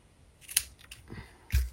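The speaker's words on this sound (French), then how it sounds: "On va couper un petit peu plus long, vaut mieux en avoir un petit peu plus que pas assez" Scissors cutting card paper for a fun fold card, a few short, close snips followed by a soft thump.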